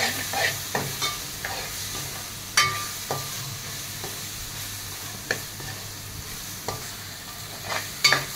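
Chili powder roasts in a pan for a tangy crab curry, with a low, even sizzle under repeated light clicks and scrapes of a spoon stirring at a loose rhythm. No voices are heard.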